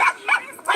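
Dogs bark in short, sharp bursts, three quick loud yaps close by within less than a second.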